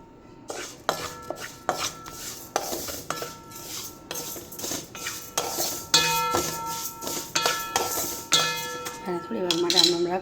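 Spoon scraping and clinking against a pan while homemade Gujarati mukhwas mix, including dhana dal, is stirred continuously as it roasts, giving a steady series of close metallic scrapes and taps with no talking.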